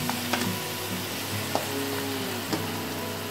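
Octopus sautés in a hot pan, a dense continuous sizzle up close with a few light scrapes of stirring cutting through.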